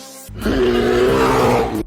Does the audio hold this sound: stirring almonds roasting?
no